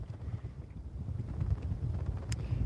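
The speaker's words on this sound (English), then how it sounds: "Yes, very, very blustery today" Strong gusty wind blowing outdoors during cold-weather fishing, a steady low rumbling buffet on the microphone that swells slightly toward the end, with no talking.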